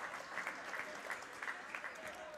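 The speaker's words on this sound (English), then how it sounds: "Crowd gives her a hand." Scattered applause from a small crowd in a gym at a high school girls basketball game, a steady wash of clapping with a few brief louder bursts over about two seconds, fairly quiet and distant, with murmured voices in the background.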